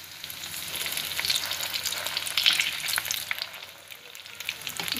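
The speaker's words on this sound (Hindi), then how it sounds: "और अब हम इसे डीप फ्राई करेंगे" Corn veg kebabs deep frying in hot oil give a continuous, close bubbling sizzle with crackles and pops throughout, no voices.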